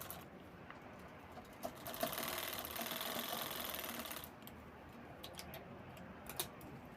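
A sewing machine stitches a handmade ladies' handbag in a quiet room with a close, steady whirring run of about two seconds, followed by scattered light ticks and clicks of handling.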